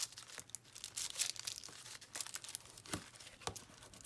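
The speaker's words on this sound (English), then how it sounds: "I'm gonna go in here with my bone folder" Bone folder pressing and burnishing a scrap paper cover onto a small handmade journal, giving soft close crinkling and scraping strokes in an irregular rhythm, quiet and with no voices.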